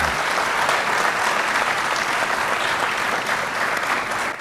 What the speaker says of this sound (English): A huge round of applause to all of them.